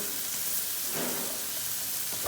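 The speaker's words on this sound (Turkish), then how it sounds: "Biberleri de şöyle ortalama bir dakika kadar bir soteleyeceğim" Peppers sauté in oil in a pot, giving a steady, close sizzling hiss with soft stirring movements, no voices.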